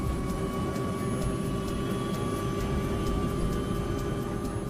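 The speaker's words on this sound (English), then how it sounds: "The engines spool up quickly." Airliner jet engines spool up for takeoff in cold weather, a steady loud roar with a sustained tonal whine heard from inside the aircraft, with no talking.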